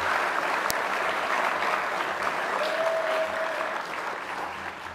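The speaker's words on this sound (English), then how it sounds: "A little round of applause to the families." A crowd at a college lacrosse award ceremony applauds steadily, a dense wash of clapping that stays loud throughout and eases slightly toward the end; a brief whistle rises above it midway.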